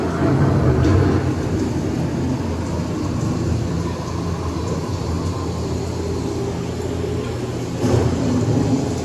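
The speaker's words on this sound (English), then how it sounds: "The approaching storm may seem violent and destructive to us, but to nature, it's a new beginning and exciting fun." Thunderstorm sound effect played on a theme park boat ride through a greenhouse attraction: a broad rumbling wash of thunder and rain, loud and sustained, swelling again near the end.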